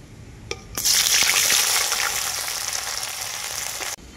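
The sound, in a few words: paneer pieces frying in hot oil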